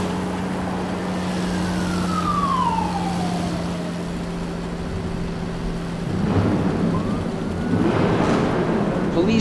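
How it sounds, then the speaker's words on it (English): A toy fire truck's wailing siren sweeps downward over a constant low electronic hum, followed by clattering mechanical noise near the end. "Fire truck."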